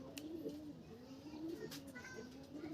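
Racing pigeons coo repeatedly at a loft during a speed training release, the low rolling coos recurring steadily over a few seconds with brief brighter chirps and faint background noise.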